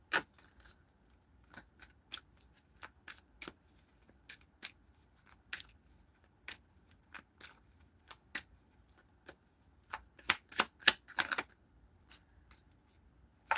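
A deck of playing cards being shuffled gives a run of sharp, crisp riffles and snaps at irregular intervals. They bunch into a quicker flurry near the end against a quiet background.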